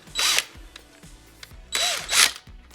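A Milwaukee cordless drill fitted with a hole saw whirs in two short bursts, spinning up and winding down, with a quiet clicking pause between them.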